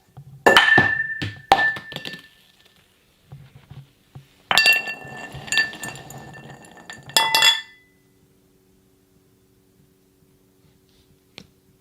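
Sharp, bright clinks and knocks from a cup come in two or three irregular bursts. Glassy taps and rattles sit close by, then give way to near silence with a single faint tick at the end.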